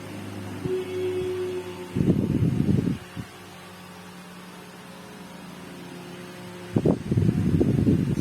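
A 12V mini DC high speed table fan runs with a low steady whir, while brief louder mechanical buzzing bursts come and go as it rotates side to side, close by and otherwise uninterrupted.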